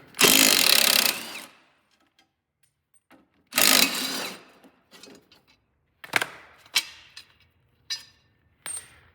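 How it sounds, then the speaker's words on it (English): A socket wrench loosens a bolt on a Honda self-propelled push mower, giving two longer bursts of whirring ratchet noise followed by several short clicks and knocks, close by with no talk. "So now you can use a socket and a wrench, and you can hold if you need, but this makes life a whole lot easier. Loosen."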